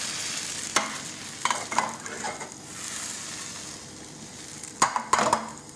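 Crepe batter cooks in a hot pan with a steady, close hiss, broken by a few short scrapes and knocks of the pan as the batter is swirled.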